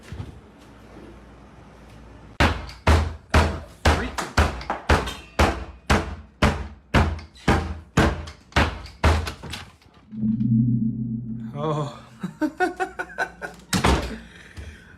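A long run of loud, evenly spaced bangs on a closet door, about a dozen hard thuds in a row, then a pause with a brief voice and a few more knocks.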